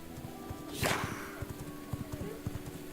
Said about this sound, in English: Alright, you always wanted to use a horse